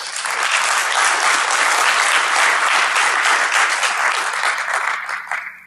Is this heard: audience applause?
yes